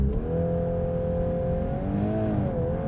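A 2022 Volkswagen Golf R held on launch control, its engine droning loudly and close at steady high revs, with pitch wavering slightly and then rising near the end, with no talk.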